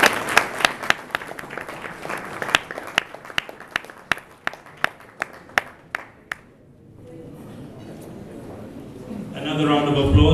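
Audience applause at an official RwandAir address: a few distinct, fairly loud claps in a quick rhythm that thin out and stop, giving way to a low room murmur that swells near the end.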